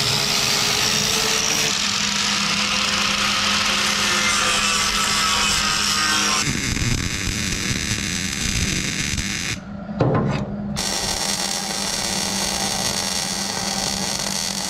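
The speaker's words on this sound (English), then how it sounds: "I might have to grind the paint off the bottom of this control arm though" A grinder works on a steel suspension control arm, stripping paint from its underside during a 300ZX suspension conversion: a steady, loud, high-pitched whine and buzzing hum run continuously, with a brief dip and a sharp change near the end.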